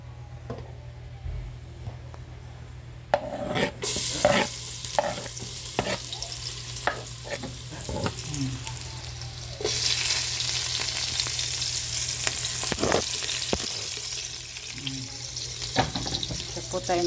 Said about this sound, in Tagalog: Gigisa po tayo.